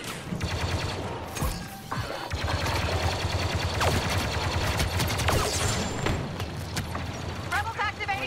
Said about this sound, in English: Shooting at me, bro.